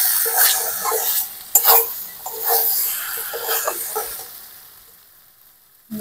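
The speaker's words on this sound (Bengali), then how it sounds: "এখন আমি একটু নাড়াচাড়া করে দেবো" Banana flower curry, mochar ghanto, is stirred in a pan with a spoon, giving repeated scraping strokes over a soft sizzle that fades toward silence at the end.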